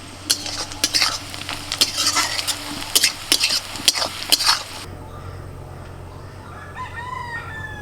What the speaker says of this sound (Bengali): তো আমি ততক্ষণ পেঁয়াজটা ভাজছি